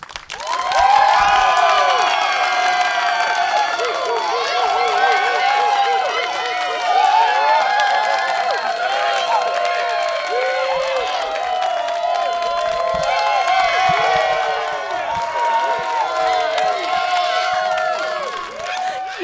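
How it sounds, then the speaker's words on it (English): A festival audience at a Fringe show cheers and whoops loudly, with many voices shouting and calling together in a sustained, lively roar and some clapping underneath, lasting the full stretch. "Applause!"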